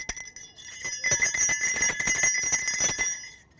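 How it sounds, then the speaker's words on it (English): A small bell shaken rapidly, its bright ringing jingle sustained for a few seconds before fading out. "I shook the bell."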